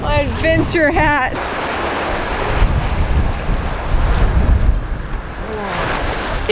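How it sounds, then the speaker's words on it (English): Strong wind buffeting the microphone alongside waves washing in at the water's edge, a loud continuous roar with surging swells; a voice speaks briefly at the start and again near the end. "It's really windy out here"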